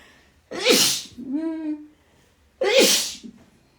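Two loud, close sneezes about two seconds apart, with a short breathy, squeaky sound between them.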